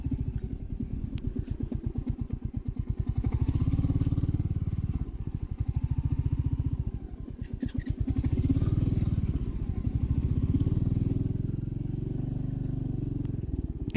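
Motorcycle on a long first ride toward Melacheri Pachaiamman temple, the engine thumping in a fast, steady pulse up close, swelling and easing as the throttle changes, with a little clatter and no clear talk.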